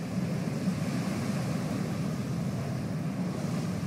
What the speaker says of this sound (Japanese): 海の音って落ち着きますよね